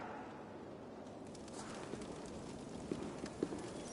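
Horse hooves clop in Assassin's Creed Valhalla, a few soft, fairly distant hoof hits surfacing late over a steady wash of ambient game noise.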